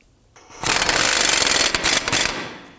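A power impact tool tightening the axle nut on a 2005-2009 Subaru Legacy front wheel hub, a loud continuous rattling hammer burst lasting about two seconds with brief stutters before it stops.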